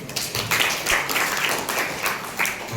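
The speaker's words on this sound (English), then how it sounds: "Give them a huge round of applause." A crowd applauds steadily at a school academic carnival, a dense patter of many hands clapping together without pause, fairly close and loud.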